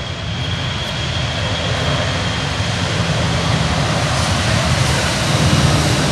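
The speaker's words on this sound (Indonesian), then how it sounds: "Nah, ya ada pesawat mau take off lagi." An airplane takes off near an airport, a loud sustained engine roar that swells gradually and holds steady throughout, with no speech over it.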